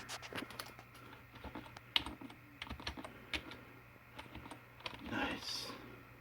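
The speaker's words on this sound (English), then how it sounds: "Let's try my Microsoft keyboard." Someone types on a Microsoft computer keyboard with quiet, irregular key clicks and occasional sharper taps, close by, over a faint steady hum.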